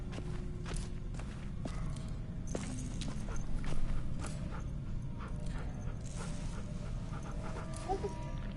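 A dog named Brody pants steadily in the video game The Walking Dead. Soft footsteps and clicks come and go, and a dense game soundscape sits underneath.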